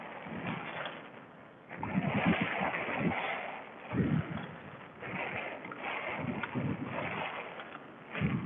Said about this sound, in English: Wind is cranking.